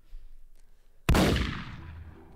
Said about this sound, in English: She just shot us?